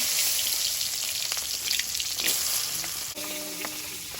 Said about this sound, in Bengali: তেল দিয়ে দিচ্ছি সবজিগুলো ভেজে নেব